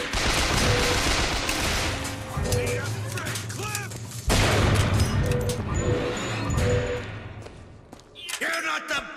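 Heavy video game gunfire from BioShock Infinite, with dense bursts of shots and explosive booms filling most of the clip, while voices speak over the shooting.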